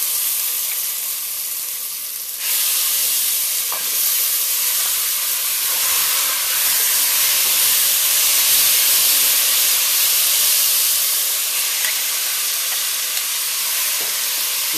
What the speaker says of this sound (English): you're going to start adding in the seasoned beef to the pot at this point